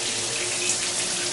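Hot water from a bathroom sink faucet runs steadily into the basin with strong pressure, a continuous close rushing hiss with no talk over it.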